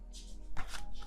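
A large tarot deck being shuffled close by gives soft riffles and a sharper flurry of card slaps in a brief, quiet burst.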